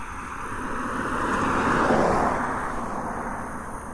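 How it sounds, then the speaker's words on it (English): A single car passes along a dark road at night, a broad steady whoosh that swells toward the middle and then fades as it moves away, heard alone without talk. "after this car passes"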